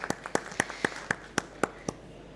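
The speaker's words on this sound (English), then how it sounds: "A round of applause for him as well." Light applause from a conference audience after a panel discussion on unsecured credit, about ten distinct claps in a sparse, evenly spaced rhythm, fairly near and fading at the end.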